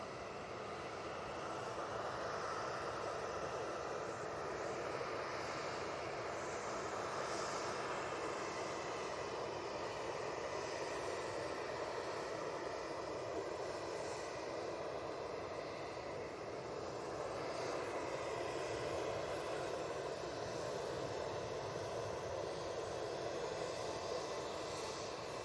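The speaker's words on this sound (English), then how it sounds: "Got 737 coming in. Ryanair." A Ryanair Boeing 737 arriving at Manchester Airport from Oslo, heard as a steady, fairly faint engine drone that stays even throughout, with no voices.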